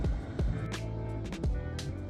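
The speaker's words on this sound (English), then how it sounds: "as you can hear the fan working in the background" A running Vevor 2 kW diesel heater installed in a VW Caddy gives off a steady, close fan whir with a low motor hum, briefly broken by a few faint knocks.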